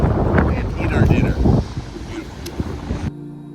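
Wind gusts buffet the microphone on the California coast, rumbling loudly at first and then easing, with a person speaking over it before it cuts off.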